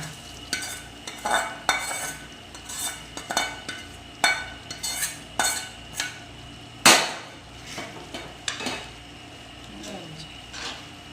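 Paneer and capsicum are stirred with a prepared paste in a frying pan, each sweep of the spatula giving a sharp scrape and clack in a steady rhythm of about a dozen strokes over a low sizzle.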